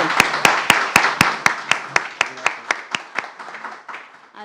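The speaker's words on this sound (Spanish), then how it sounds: "Démosle un fuerte aplauso." Applause from an audience welcoming a magistrate to an academic talk event, starting as a dense burst and thinning into a few loud, evenly spaced claps that fade toward the end.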